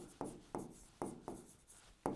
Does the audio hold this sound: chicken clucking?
no